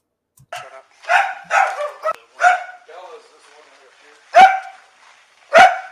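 A dog barks loudly and close by in a room: about six sharp barks come in an uneven run, with two spaced, louder barks at the end and short gaps of quiet between them.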